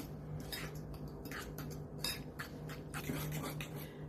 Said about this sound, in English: I'll get that all stirred together.